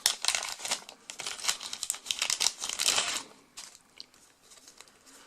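A wrapped pack of Star Wars Imperial Assault cards is torn open, with loud, close, continuous plastic crinkling and crackling that thins out toward the end.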